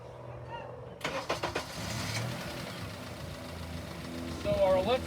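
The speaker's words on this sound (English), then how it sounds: "Nonetheless, I will start the car" A Honda car engine cranks and catches in a short burst of starter turns, then settles into a steady idle. It is close and fairly quiet, with a brief higher whine near the end.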